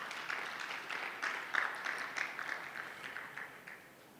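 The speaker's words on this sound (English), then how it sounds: "Please give them a round of applause." Audience applause at a closing plenary session of an event, a steady wash of many hands clapping that rises and falls over a few seconds, moderately distant and fairly soft, with no voices over it.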